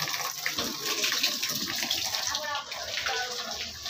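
Water gushes steadily from a tap into a container outdoors, a continuous rushing noise that stays loud and near throughout.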